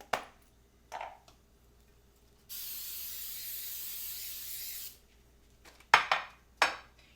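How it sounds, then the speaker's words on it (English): Coconut oil cooking spray hisses in one steady burst of about two and a half seconds as it coats the bottom of a baking dish, framed by a few sharp clatters of handling before and after. "I'm going to use coconut oil to spray it on the bottom."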